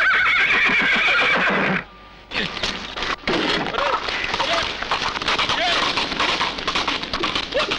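A horse whinnies loudly, then pounding hoofbeats and clatter as the mare bolts off, busy and close, with a brief quiet gap in the middle.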